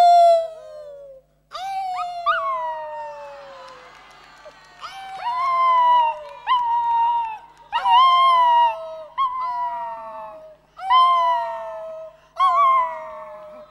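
Two people imitate dogs howling, trading long wavering howls and yelps in several drawn-out bursts with short gaps, loud and close, with crowd noise faint in the background.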